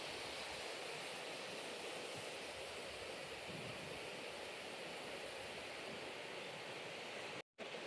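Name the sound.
waterfall water flowing at Pitalkhora caves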